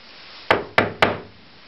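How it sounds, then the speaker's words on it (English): Three sharp knocks on a door, evenly spaced and close, each a solid thud with a brief decay, against an otherwise quiet background. "So there was a knock on the door."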